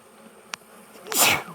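A single sharp human sneeze bursts out beside an open beehive during a honey super inspection, preceded by a faint click and the low hum of bees.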